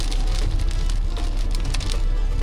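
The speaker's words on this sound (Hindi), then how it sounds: "अब इस वक्त स्टार्ट हो गया बारिश। तो एकदम घमासान बारिश अचानक से।" Sudden heavy downpour during a road trip on the Delhi Mumbai Expressway, a dense, loud, continuous patter of rain drumming on the car without a break; no voices.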